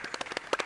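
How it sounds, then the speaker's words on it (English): A live audience at a communications conference claps in a brief burst of applause, several distinct sharp hand claps ringing out close and clear with no talking. "I'm going to start with a round of applause for all that you all do"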